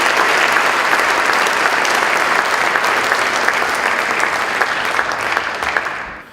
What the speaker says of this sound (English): please give a round of applause to Elijah Diaz